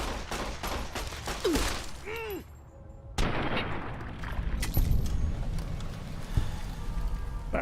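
Gunfire in Fallout New Vegas rattles in dense overlapping shots and booms through most of the stretch, loud and close, with a short lull in the middle.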